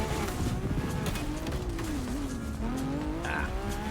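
A supercar in the racing game The Crew Motorfest drives hard at close range, its engine note rising and falling steadily over four seconds with a brief tire squeal near the end.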